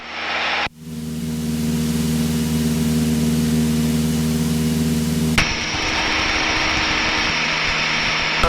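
Light training aircraft engine drones steadily in flight during a private pilot lesson, a loud continuous hum heard from inside the cabin, with a sudden shift in tone as power is added partway through.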